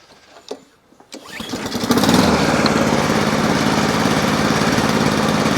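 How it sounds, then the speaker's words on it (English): A petrol lawn mower engine catches after a few clunks and settles into a steady, low-revving drone, close and loud, with no talking over it. "So as you can hear, the lawnmower itself,"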